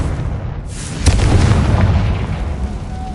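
A Confringo blasting curse from Hogwarts Legacy detonates as a single loud, close explosion with a sharp burst and a rumbling low tail, set over steady background game ambience.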